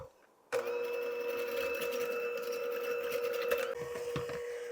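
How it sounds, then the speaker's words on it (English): An electric hand mixer with a whisk attachment starts abruptly after a brief quiet and whirs with a steady motor whine while beating cream to stiff peaks, close by. The tone shifts near the end. "I'm going to use my electric hand mixer. I'm using the whisk attachment."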